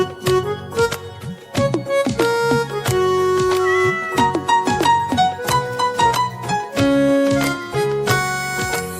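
A Hindi children's cartoon song about a cat has a voice imitating a cat, singing repeated meows in a bouncy rhythm over loud, bright instrumental backing.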